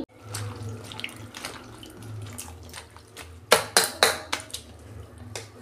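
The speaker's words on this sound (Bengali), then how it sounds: "ভালো করে লাউটা ধুয়ে নিচ্ছি" A bottle gourd washed under running tap water, the water splashing and spattering unevenly against the vegetable, close by, with sharper bursts of splashing toward the end.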